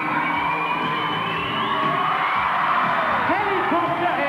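Crowd cheers a teenage BMX rider's freestyle trick at a 1980s competition final, with sustained whoops and yells from many voices, loud and continuous, and a commentator talking over it.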